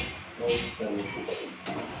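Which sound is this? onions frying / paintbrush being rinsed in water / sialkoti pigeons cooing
sialkoti pigeons cooing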